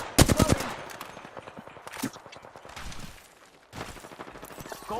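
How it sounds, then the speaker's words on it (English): Gunfire in Apex Legends, with a rapid burst of automatic shots up front and further scattered shots and bursts later, mixed with game sounds and footsteps. "Putting lead down range."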